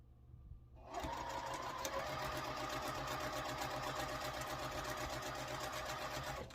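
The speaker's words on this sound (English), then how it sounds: "we're just going to come down and sew and just make sure everything's lined up" A sewing machine stitches a quilt block for a sampler quilt, starting abruptly after a brief quiet moment and then running steadily with a fast, even mechanical whir and rapid needle chatter, close and continuous to the end.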